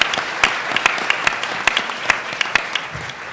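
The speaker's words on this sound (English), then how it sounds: "I think we should have another round of hearty applause for CBS and Titan" Hearty applause from a forum audience at a transit advertising ratings event, a close, loud wash of clapping with sharp individual claps standing out throughout.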